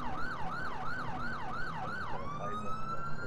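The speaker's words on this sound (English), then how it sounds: "Wow, Jesus, that ambulance." An ambulance siren from a police-patrol video game wails loud and close, cycling through rapid rising-and-falling yelps before switching to a steady high tone.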